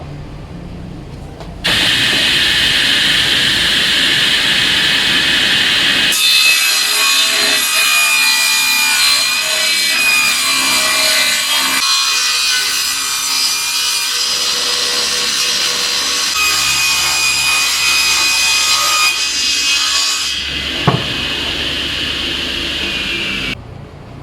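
Table saw with a circular blade ripping solid wood straight along both edges, a loud sustained whining cut that starts after a motor idle, runs steadily for about fifteen seconds, then drops back to idle with a brief knock.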